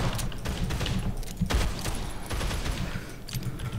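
Continuous gunfire in the zombie game Dead Island, a dense fusillade of overlapping shots with a few louder cracks, steady and fairly loud throughout.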